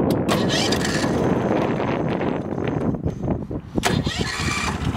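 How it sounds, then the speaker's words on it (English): A 1956 Cushman Eagle scooter fitted with a V-twin Vanguard engine is electric-started outdoors: the starter cranks briefly, then the engine catches and settles into a steady idle, with some wind buffeting the microphone. "there's the key switch for the electric start, and there's the starter."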